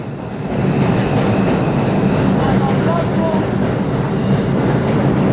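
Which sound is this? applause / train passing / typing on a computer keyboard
train passing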